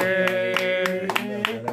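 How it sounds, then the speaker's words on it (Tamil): A worship congregation claps in a steady rhythm at a night prayer meeting on a mountain, sharp hand claps roughly every third of a second over sustained singing and music. "கைத்தட்டு, கைத்தட்டு,"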